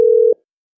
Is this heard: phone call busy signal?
yes